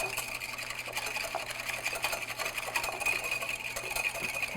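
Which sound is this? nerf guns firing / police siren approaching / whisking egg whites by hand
whisking egg whites by hand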